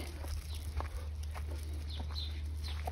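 Farm chickens cluck sporadically in the morning, soft and somewhat distant over a steady low hum and faint background noise.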